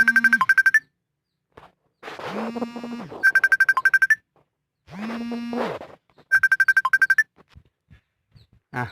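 A mobile phone ringtone sounds for an incoming call, playing three short bright chirping bursts, alternating with a low electronic tone in between, loud and close in a quiet room.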